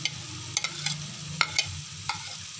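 Capsicum being stirred into chicken in a pan, soft scraping taps of a spoon over a faint sizzle, close and quiet.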